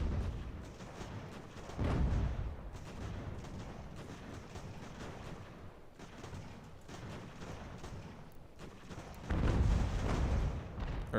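Artillery fire in the video game Ultimate General: American Revolution gives heavy booming bursts at the start and again near the end, over a continuous battle din.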